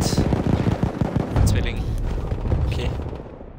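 Gunfire in the World War I shooter Battlefield 1 crackles in quick bursts with heavier booming blasts, loud and dense over a few seconds while players talk over it.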